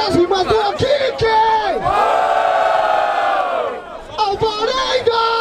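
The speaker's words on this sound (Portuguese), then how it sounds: "Barulho para as rimas do Kike" A loud crowd roars, whoops and shouts together in a sustained burst of cheering for a rapper's rhymes at a freestyle rap battle in Barueri, São Paulo, with scattered yells before and after the main swell.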